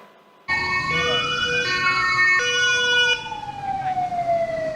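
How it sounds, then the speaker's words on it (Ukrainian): Loud emergency sirens wail together nearby, one pitch sweeping up and down over steady tones, with vehicle noise underneath. "Сирени виють, автівки мчать на виклик."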